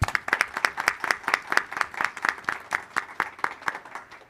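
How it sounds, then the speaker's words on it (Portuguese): A small audience at a public hearing gives a short round of applause, clapping in a fairly regular, moderately loud rhythm of distinct claps throughout. "Uma salva de palmas"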